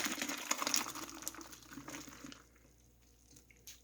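Potato cooking water poured from a pot into a colander set inside another pot, a splashing gush that tapers to drips and trickles, close and fairly quiet.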